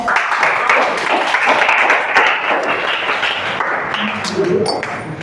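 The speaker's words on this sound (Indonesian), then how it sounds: "Tepuk tangan buat kita semua." Students in a classroom clap together in a dense, steady burst of applause after a chemistry lesson on acids and bases, with voices mixed in beneath.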